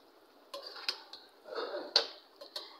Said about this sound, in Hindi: तो मिक्स करेंगे मसाले को हम।